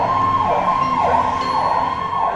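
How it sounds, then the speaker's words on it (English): Police siren outside, loud and close, wailing in steady rising and falling sweeps without a break, alone with no voices. "Police siren!"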